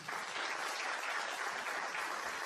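A crowd applauds performers after a dance on stage, with dense, steady clapping that stays loud and even for the whole stretch and no voices on top.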